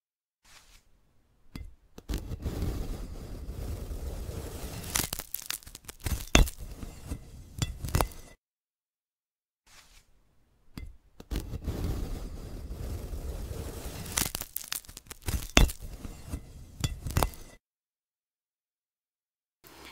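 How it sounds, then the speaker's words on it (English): AI-generated ASMR glass sounds in two separate bursts split by silence, each a close run of crisp clinks, taps and crackling glassy snaps with sharp peaks. "now that sounds more like glass"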